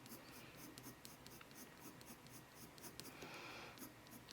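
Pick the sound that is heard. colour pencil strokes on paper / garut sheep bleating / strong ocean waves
colour pencil strokes on paper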